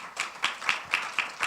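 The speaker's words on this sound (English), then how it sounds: "she deserves a round of applause" A small audience at an engineering and service management congress claps for Madalena, giving a handful of distinct, evenly spaced claps at close range, with no talking.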